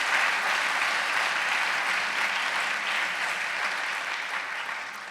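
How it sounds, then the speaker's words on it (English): Sustained applause from an audience at a Kathak dance recital, steady and dense for the whole stretch and fading slightly toward the end, with no voices on top. "Can we have a round of applause?"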